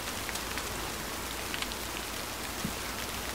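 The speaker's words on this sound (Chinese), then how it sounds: "下雨了，下雨了， 下雨了啊！" Steady rain patters evenly in a horror video game, a dense continuous wash of drops with occasional faint knocks.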